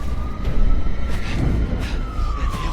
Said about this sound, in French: Oh, les ambulances. Ah oui, non, c'est pompiers.